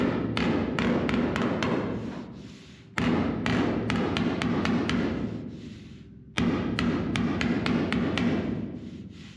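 Hammer blows on the body panel of a '55 Nomad, rapid bursts of sharp metallic strikes in three clusters, close and loud, with ringing decay between groups.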